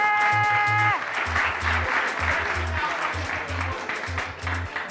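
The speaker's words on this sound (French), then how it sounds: "On les applaudit," Audience applause for contestants at the finale of a quiz competition, a steady wash of clapping running through the whole stretch, with music tones and a low rhythmic beat sounding briefly at the start and then continuing underneath.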